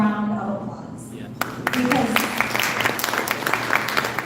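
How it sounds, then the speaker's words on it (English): A crowd at a community Capitol Day gathering breaks into applause after a voice speaks at the start, the clapping swelling into a sustained, fairly loud patter of many hands. "give yourselves a round of applause"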